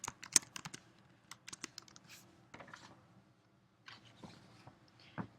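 Close, soft keystrokes on a computer keyboard, arriving in short irregular bursts with brief quiet gaps between them and no speech.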